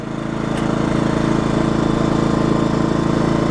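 A Black Diamond inverter generator engine runs steadily at low RPM with a fan load, a continuous mid-pitched hum that swells slightly in the first half second and then holds level.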